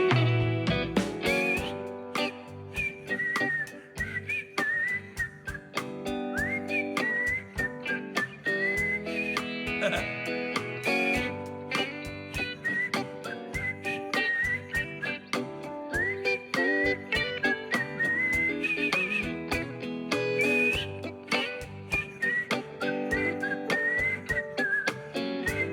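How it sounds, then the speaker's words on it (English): An audience at a library music talk whistles along to a song, a sustained melodic whistled tune with many voices blending, loud and continuous with no talking. "Help me whistle, come on."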